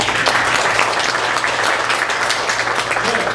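Audience at a missional church conference lecture breaks into applause, a dense, steady wash of clapping that holds at even loudness for a few seconds with a low hum beneath it.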